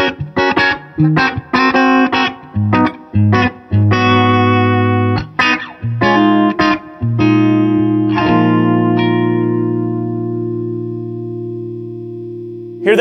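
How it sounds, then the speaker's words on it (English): An electric guitar played through an Andrews Steel String Singer amp strums several choppy chords, then lets one chord ring out and sustain smoothly for several seconds, loud and close, slowly fading with a warm tone. "When I let a chord ring out, you hear this sustain"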